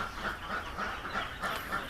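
Three-day-old ducklings in a rearing pen peep and chirp in quick, overlapping bursts, a busy cluster of small high calls repeating close by with no talking.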